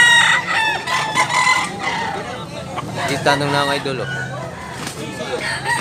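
Chickens and roosters at a farm in Tabunok, Cebu, crowing and clucking repeatedly at close range, with several people chatting over the birds throughout.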